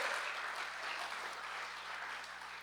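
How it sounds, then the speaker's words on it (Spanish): Steady applause from a large church congregation, a dense continuous clatter of clapping that holds at an even level and tapers slightly toward the end. "Dale otro fuerte aplauso a Dios."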